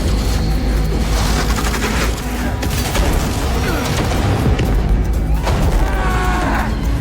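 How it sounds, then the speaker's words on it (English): A loud, dense roar of a propane tank explosion and crackling fire fills the whole stretch, with rumbling low end and scattered bangs, constant and overwhelming. "The moment it touched the propane, the flames spread rapidly and triggered an explosion from the tank."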